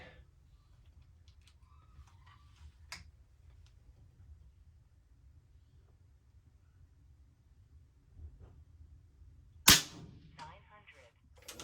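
Two .25 caliber Avenger air rifle shots ring out in a quiet outdoor setting during a 100-yard test: a faint crack early on, then a louder, sharper snap near the end, with low background rumble between.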